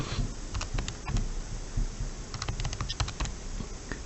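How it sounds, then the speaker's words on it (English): Numbers tapped into a calculator, a quick run of light plastic key clicks in an uneven rhythm, close and fairly quiet, without speech. "you can actually just type that into your calculator as you will"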